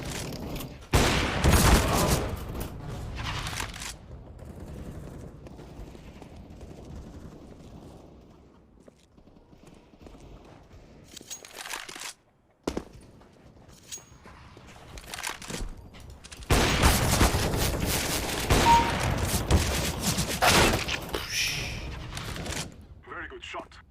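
AK rifle gunfire in a video game comes in loud rapid bursts near the start and again later, with quieter stretches and a brief single crack between them.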